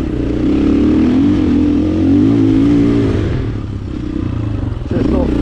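Husqvarna 450 FE dirt bike engine labouring up a climb, a loud, close, steady drone with rising and falling revs and a brief dip near the end.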